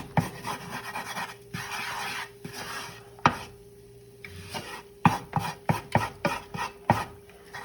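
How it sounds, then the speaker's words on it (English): A whisk working cheese sauce for buffalo mac and cheese in a pot, rapid scratchy strokes coming in bursts and then quick separate taps, close by, with no talking. "I'm supposed to whisk it in until it's smooth"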